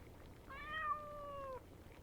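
An orange cat named Lula gives a single clear, drawn-out meow lasting about a second, close by against a quiet background hiss.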